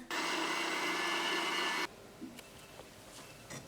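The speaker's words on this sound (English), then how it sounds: "Blend the second batch and then place everything back in the pot" A kitchen blender whirs loudly, processing barbacoa marinade for about two seconds with a steady motor whine, then cuts off abruptly, leaving faint clicks and quiet room noise.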